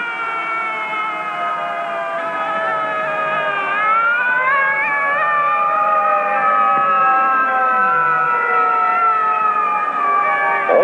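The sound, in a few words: fire engine siren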